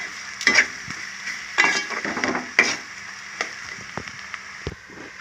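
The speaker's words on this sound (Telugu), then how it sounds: "మటన్ అంతా ఇందులో వేసేస్తున్నాం అన్నమాట ఇదంతా ఫ్రై చేసేస్తున్నాం" Mutton and chana dal fry with onions in a pan, a steady sizzle broken by a few sharp scraping stir strokes and light clinks, close and without speech.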